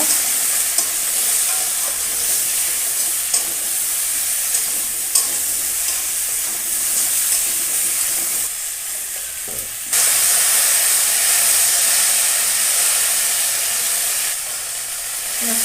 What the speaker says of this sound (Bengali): লবণ দিয়ে দেবো হলুদ দিয়ে দিলাম এবার ভালো করে ভেজে নেব